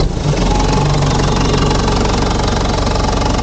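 Diesel vineyard tractor engine idling steadily close by, a loud continuous low rumble with a fast knocking pulse throughout, no voices.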